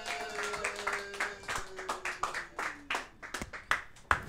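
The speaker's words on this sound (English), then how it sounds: "Clap it up." Audience at a freestyle rap show clapping in a steady rhythmic beat, individual claps distinct, faint against a sustained tone and background murmur.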